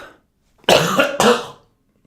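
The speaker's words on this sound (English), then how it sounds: "I got this lingering cough." Two harsh, close coughs in quick succession, loud and dry, followed by silence.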